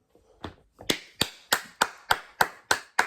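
Hands clap loudly and sharply nearby, a few uneven claps building into a steady run of about seven evenly spaced, cracking claps in a quiet room.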